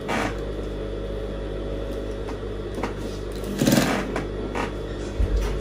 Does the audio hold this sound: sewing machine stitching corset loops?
yes